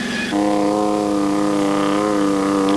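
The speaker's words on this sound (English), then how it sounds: "the howling exhaust note of the two-stroke Detroit diesel V8" Two-stroke Detroit Diesel V8 exhaust of a Perlini rally truck on the Paris–Moscow–Beijing event, a loud, steady, howling drone close by that swells up after a brief quieter start and holds.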